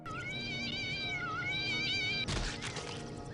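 Cats yowl in the video game Postal 2, a loud drawn-out wavering caterwaul that cuts off abruptly into a burst of harsh splattering noise.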